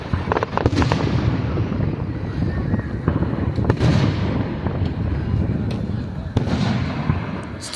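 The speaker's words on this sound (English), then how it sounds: "They took me to see these fireworks." A long fireworks show crackles and booms continuously, with sharp bangs scattered through dense rumbling and some wind buffeting, as people talk over it.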